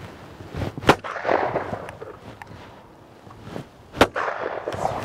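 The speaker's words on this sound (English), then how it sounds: "So now I shoot the AB report. Pull." A shotgun is fired at FITASC clay targets in a sporting shoot. Two sharp, loud reports ring out about three seconds apart, and each leaves a brief echoing tail over outdoor background noise.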